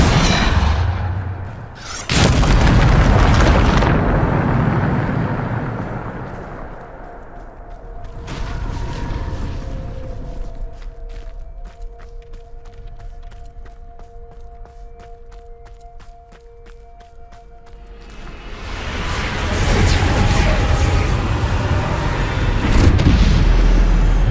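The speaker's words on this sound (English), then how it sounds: "Bombarder!" Bombarda explosion spell blasts in Hogwarts Legacy, loud booming bursts separated by quieter stretches of mechanical and magical humming tones.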